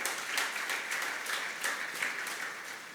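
A church congregation claps loudly and continuously, a dense patter of many hands at close range with no voices rising above it.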